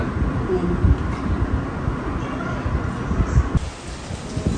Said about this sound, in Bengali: এখনো বৃষ্টি হইতেছে এই সকাল থেকে বৃষ্টি হইতেছে